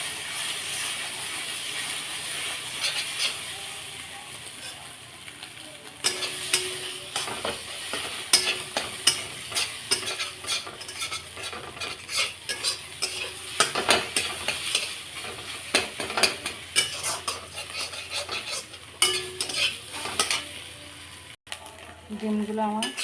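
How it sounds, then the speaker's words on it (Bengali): Two eggs frying in oil left over from frying potatoes in a pan: a constant hissing sizzle with frequent scraping and clattering stirs, close and fairly loud, rising in bursts through most of the stretch. "তো ওই তেলে আমি 2টো ডিম ভেজে নেব।"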